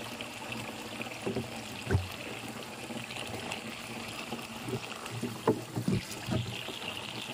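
Free-flowing water runs steadily into a container at an outdoor free-water spot, a soft continuous splashing trickle with a few louder gurgles and knocks, fairly quiet and without speech.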